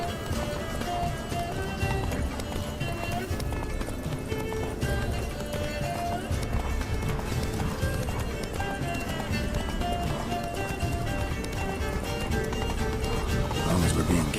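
Roach, a horse in The Witcher 3, gallops in a steady, rapid clip-clop of hooves with an occasional whinny, close and continuous, while people talk over it.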